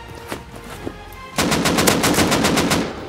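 Rapid machine gun fire in an online multiplayer shooter, a sustained burst of evenly spaced loud shots starting partway through after a few scattered distant shots, with no talking.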